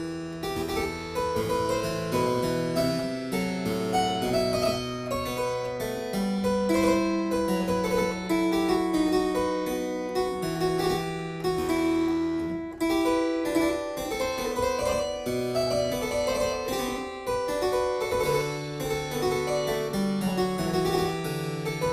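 Harpsichord playing a Couperin allemande, the slow opening dance of the 18th suite, with continuous plucked notes and rolled chords sounding clearly and alone at a steady, unhurried pace.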